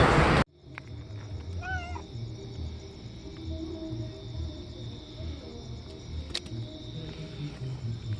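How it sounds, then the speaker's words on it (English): A cat meows a few times at moderate distance over a steady low hum and background noise, with a short sharp sound later. "I am ending my intro with this kitty."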